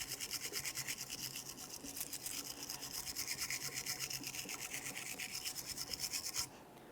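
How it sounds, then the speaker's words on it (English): A wire brush scrubs the groove of a brake caliper bracket on a 2002-2005 Ford Explorer in quick, even back-and-forth strokes, close and steady, stopping near the end. "To clean this, you can use a wire brush or maybe even a wire wheel."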